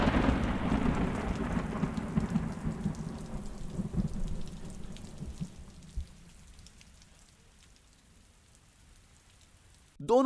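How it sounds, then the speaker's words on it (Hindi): Heavy rain pours down with a low rumble of thunder in an animated Hindi comedy story. The downpour is loud at first, then thins and fades to near quiet, and a brief sound cuts in at the very end. "इतने में बारिश शुरू हो जाती है।"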